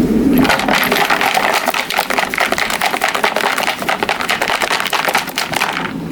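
Lawnmower fuel tank being shaken hard to loosen settled deposits, giving a fast, continuous metallic rattling and clattering of loose bits inside, loud and close with no speech.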